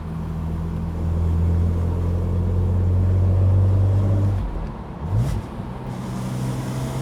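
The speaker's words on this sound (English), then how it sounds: "that was probably my best downshift that I've ever done" A BMW Z4 M Roadster engine holds a steady, loud drone, then drops away as it downshifts, with a quick blip of revs before settling back to a lower hum.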